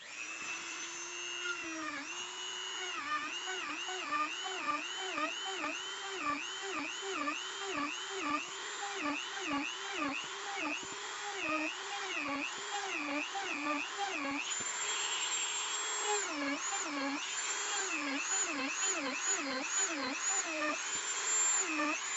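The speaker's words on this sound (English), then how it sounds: "Now we drill." A drill bores holes along a square stitch line while a knife is being made, its whine rising and dipping in a regular cycle of repeated short passes, close and fairly loud, with a sustained harsher stretch near the end.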